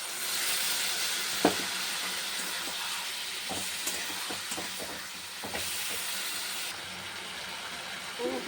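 Spice mixture frying in a pan with vegetables, turmeric and salt, a steady close sizzle and steamy hiss broken by several sharp stirring knocks of a spatula against the pan.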